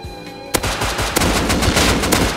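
Rapid automatic AK rifle fire in the survival game Rust, a dense continuous burst of loud sharp shots that starts abruptly and keeps going to the end, with no talking.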